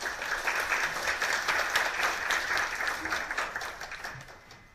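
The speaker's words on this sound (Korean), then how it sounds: "박수로 맞아주십시오." Audience applause at a policy forum on student safety in Gwanak district, Seoul, a soft, steady crowd clapping that tapers off toward the end.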